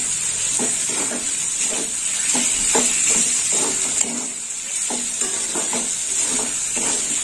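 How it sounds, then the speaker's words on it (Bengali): Onion sautéing in a pan for a chichinga and potato curry, giving a steady close sizzle and hiss with repeated soft scraping stir strokes in an uneven rhythm, no voices. "পেঁয়াজটা দিয়ে একটু কষে নেবো"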